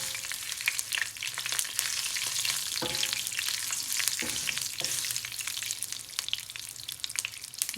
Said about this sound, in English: and let them pop.